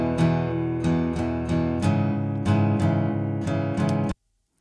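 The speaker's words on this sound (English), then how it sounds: "So the acoustic guitar, dry again, sounds like this." Dry acoustic guitar with no reverb plays a strummed or picked passage of repeated chords, each attack sharp and close, ringing steadily for about four seconds before stopping abruptly into silence.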